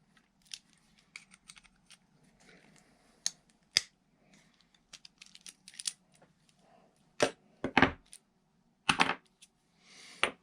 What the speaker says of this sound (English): Got to pop these springs off though, so you can pull this thing apart.